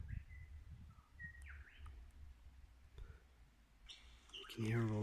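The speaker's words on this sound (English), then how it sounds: "You can hear all the lyrebirds in the background." Varied lyrebird calls, whistles and sharp chirps sound through a quiet outdoor background on a hiking trail in the Cathedral Range, with a louder burst of warbling song at the end.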